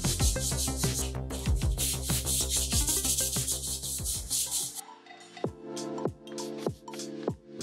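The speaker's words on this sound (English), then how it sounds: "Then I smooth the front edges using 80 grit sandpaper." Coarse 80 grit sandpaper rubbed along the front edges of a homemade wooden desk speaker box, a steady back-and-forth scraping rhythm at close range, with no talk over it.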